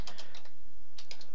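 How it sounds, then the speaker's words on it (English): Fingers typing on a computer keyboard in bursts of quick clicks, with a brief pause in the middle before another short run of keystrokes, close and fairly loud. "I'm going to type this out so you can see how I do it."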